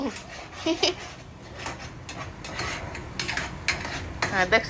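A spoon stirs and scrapes spice paste frying in a pan, with irregular clinks and scraping against metal and a soft sizzle underneath, close and moderately quiet, with someone talking at times.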